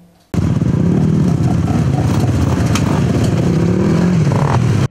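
Motorcycles at a bikers' season-opening gathering in Zakarpattia, Ukraine: a loud, close, continuous engine roar with revving swells that starts abruptly and holds steady.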